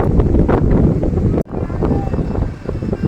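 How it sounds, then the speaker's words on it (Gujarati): Heavy wind at Madhupur beach roaring and thumping against the microphone in close, loud gusts, with one sudden brief dropout midway before the blustering resumes. "પવન જોરદાર આવે છે"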